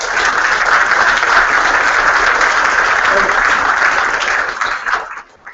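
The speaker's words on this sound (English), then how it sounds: "I think that deserves a round of applause to start with." Hearty round of applause at the farewell and flag bearer announcement for the 2014 Australian Youth Olympic Team, a dense, loud crowd clapping that holds steady before tapering off at the end.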